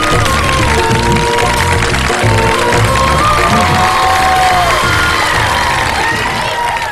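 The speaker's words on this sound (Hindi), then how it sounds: "ये बहुत सारी तालियां जबरदस्त" A studio audience at a live Ramadan iftar TV show claps and cheers loudly and continuously, a dense wash of applause with whoops and shouts throughout.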